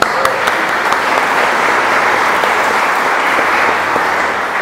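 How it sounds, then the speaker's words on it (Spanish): Loud, steady applause from a crowd of pilgrims honoring a married couple at a Catholic gathering, sustained clapping without a break for several seconds. "Un aplauso para ellos."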